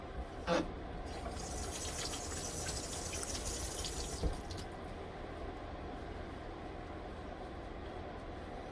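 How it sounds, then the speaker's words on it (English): Tap water runs steadily into a kitchen sink while hands are washed beneath it, a soft continuous hiss broken by a brief splash early on and a knock partway through, with no talking. "let me wash my hands off"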